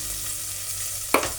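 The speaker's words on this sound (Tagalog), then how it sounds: "Isahin na natin ang bawang at sibuyas." Garlic and onion sizzling in hot oil for beef kare-kare, a steady close fry with a sudden louder stir and splatter near the end.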